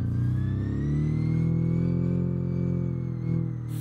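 A rally car's engine in the BeamNG driving game revving steadily, pitch climbing and holding as it accelerates, loud and close with no voices.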